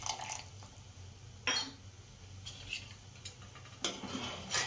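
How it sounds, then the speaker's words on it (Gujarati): About a spoonful of vinegar poured into hot and sour soup as it cooks, giving a few soft, quiet drips and splashes against a low background. "1 ચમચી જેવું વિનેગર નાખીશું."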